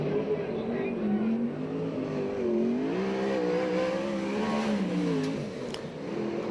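USAC/CRA sprint car racing on a dirt track in Alger, Washington, with the engine's snarling drone rising and falling in pitch as the car works around the circuit, loud and continuous, under faint announcer talk.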